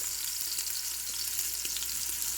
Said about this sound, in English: Make sure that as you're searing this, that you're getting all sides of this nice and browned, not just two sides.